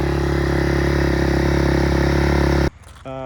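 Honda CRF 250X dirt bike engine revving loudly through its single exhaust, which needs repacking. A steady, buzzing roar holds close and constant for almost three seconds, then cuts off abruptly to a quieter, uneven rumble.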